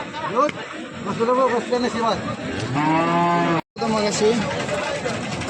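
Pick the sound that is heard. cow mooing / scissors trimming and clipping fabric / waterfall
cow mooing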